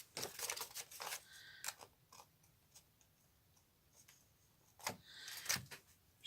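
Scissors snip away excess paper napkin from the back of a handmade vintage craft pouch: a quick run of sharp close clicks, a quiet pause, then a second short burst of cuts.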